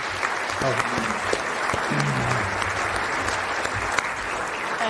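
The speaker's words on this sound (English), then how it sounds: "the two of them deserve the warmest round of applause for over 30 years" An audience at a memorial event honouring Major General Michael Jeffery gives a warm, sustained round of applause, while a voice speaks faintly underneath.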